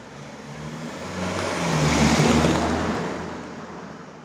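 A vehicle speeds past on a road: a broad whooshing rush swells to a peak around the middle, then fades away, with no voices.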